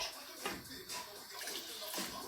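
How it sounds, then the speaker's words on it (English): Water is poured into a pot of chana achari dal cooking in masala, making a soft, steady splashing and gurgling that stays faint and continuous. "I'm going ahead to add some water to it"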